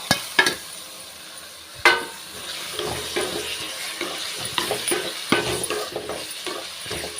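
Bottle gourd sautés in oil for a Tamil kuzhambu, a soft, sputtering sizzle nearby, punctuated by several sharp clanks and scrapes of a spoon stirring in the pan, with no talk.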